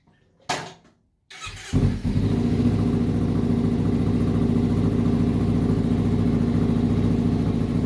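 A Kawasaki Ninja 300 motorcycle starts after a short crank and a brief silence, then settles into a loud, steady engine note that runs close by with no talk.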